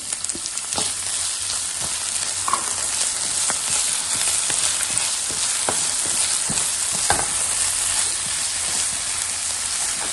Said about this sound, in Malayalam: തക്കാളി ഉള്ളി നന്നായി വഴന്നു വരുന്നവരെ ഇളക്കി കൊടുക്കാം